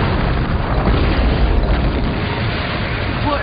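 Explosion sound effect from a Tremors 2: Aftershocks radio spot, a loud, sustained rumbling blast with a dense roar that carries through the whole stretch without talk.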